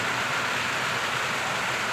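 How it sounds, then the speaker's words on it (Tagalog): Heavy storm rain pours down steadily over a street-side stall selling pares and siomai, a dense, even hiss filling the whole stretch with no talk. "Medyo malakas ang ulan"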